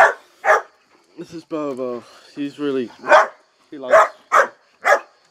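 Several dogs bark in short bursts, near and loud, scattered among stretches of a person talking.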